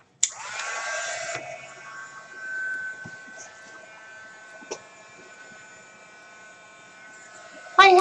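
A handheld dryer blows on a painted gelli plate print, a steady whirring buzz for about a second, then a fainter hum that trails on, with a brief click near the end.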